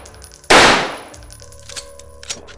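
A single loud, sharp gunshot blast from a weapon in a top-down shooter video game, decaying quickly and followed by faint metallic clicks and small clanks, heard alone without speech.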